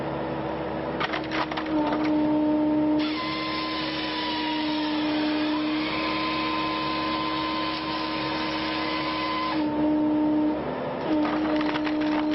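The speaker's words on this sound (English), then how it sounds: "the saw slices clean through" A powered saw cuts steadily through a wood log outdoors, a long sustained whining grind with a constant tone that starts, holds for several seconds and stops, with brief crackling bursts before and after.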